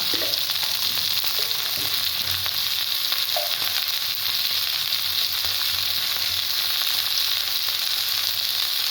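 Turmeric and coriander spice hitting hot oil in a pan for aloo posto bhindi: a steady, close, even sizzle that holds at one level throughout, with a few faint clicks and no voices.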